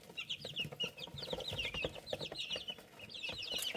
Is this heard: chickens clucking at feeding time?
yes